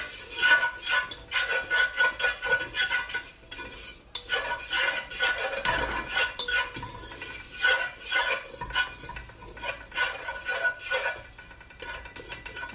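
A spoon stirs macaroni and cheese sauce in a pot, scraping steadily and continuously along the metal with a busy, rasping texture, close up and with no talking.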